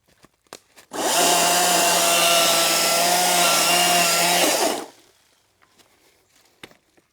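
A 56V Ego CSX5007 20-inch commercial battery chainsaw cuts through wood, a loud steady whine with a low hum that runs for about four seconds up close and then stops abruptly.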